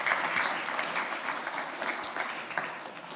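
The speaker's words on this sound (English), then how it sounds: "everyone give Paul a round of applause for doing that." A church congregation applauds with a dense patter of clapping hands that holds steady throughout, moderately loud in the room.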